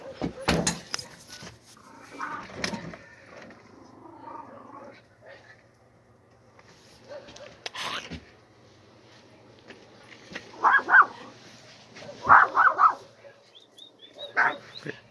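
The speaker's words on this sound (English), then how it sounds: "Doggies." Several dogs bark in short bursts and whimper nearby, with excited yelps scattered between quieter stretches and a person talking at times.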